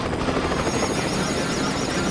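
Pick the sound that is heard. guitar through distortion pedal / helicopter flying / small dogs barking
helicopter flying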